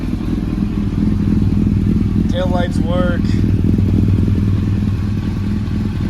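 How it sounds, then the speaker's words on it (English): A 1999 Yamaha R1 sport motorcycle engine idles steadily and close by with a continuous low rumble, while someone speaks briefly over it. "So here's the bike running."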